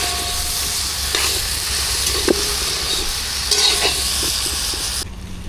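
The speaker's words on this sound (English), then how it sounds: "Alright, so let us fry up a bit." Oil sizzling steadily as seasoned ingredients fry in a pot for a stew fish and breadfruit oildown, with a constant hiss, a few clinks and stirring knocks, and a brief drop in the sizzle near the end.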